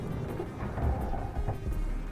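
Thunderstorm raging outside in the Stationeers video game, low rumbling thunder over steady rain noise, fairly faint and continuous with no voices.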